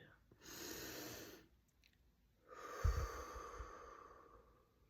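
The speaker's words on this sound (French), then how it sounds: "Inspire, expire." Slow, deep breathing during a guided healing meditation: a long, airy inhale followed after a pause by a longer exhale with a soft rumble, quiet and close.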